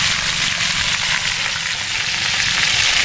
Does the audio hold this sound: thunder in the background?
no